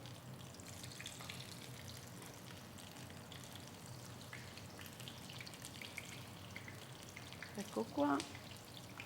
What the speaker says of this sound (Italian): Mettiamo le melanzane nell'olio bollente.